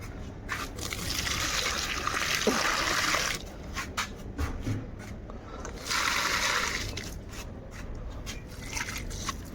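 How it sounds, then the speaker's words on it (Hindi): Water is poured onto plants in two long, steady splashing bursts, with brief drips and trickles between them, close and fairly loud. "तो गाइस, चलिए अब चलते देते हैं पौधों में पानी।"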